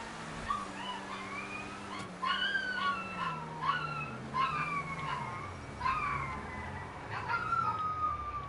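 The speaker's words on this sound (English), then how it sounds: "I gotta go check on my dogs, see why they're barking." Several dogs bark and howl indoors at moderate distance, with repeated yelping and whining calls over a low steady hum from game audio.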